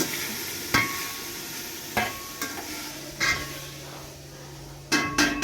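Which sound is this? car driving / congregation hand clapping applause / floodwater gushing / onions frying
onions frying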